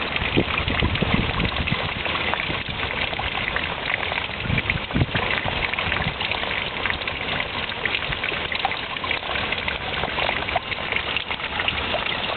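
Water from a cleaned spring in Ukraine flows into a lake. It makes a continuous, moderately loud trickling and gushing sound that stays steady the whole time.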